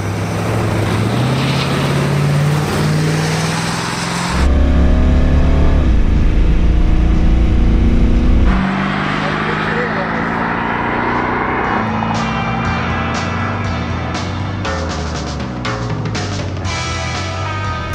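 A classic Ford Shelby Mustang GT500, over 50 years old, accelerates down a quarter-mile drag strip, its loud engine roaring and climbing through gear changes before fading into the distance with no talk.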